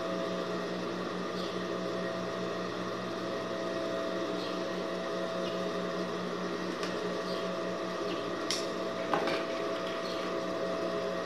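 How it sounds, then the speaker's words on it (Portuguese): A sewing machine stitches the seam of a child's dress, its motor holding a steady, even whirring hum throughout, with a few faint clicks near the end. "E vou passar a costura."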